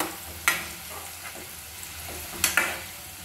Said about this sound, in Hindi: तेल गर्म हो गया प्याज डाल देते हैं, देखिए प्याज डाल दी है